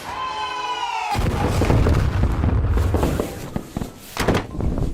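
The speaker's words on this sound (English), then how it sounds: "The immediate bang and flash of light sends me shooting off of my bed." A firework bang sound effect: one sudden loud blast cuts in after a steady tonal hum, then booming, rumbling decay with a couple of further thumps.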